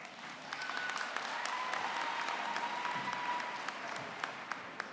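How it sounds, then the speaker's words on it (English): At a university graduation ceremony for the Faculty of Education, the audience gives a sustained round of applause, a soft, dense and even spread of clapping from a large room, heard without speech. "I think he deserves a round of applause."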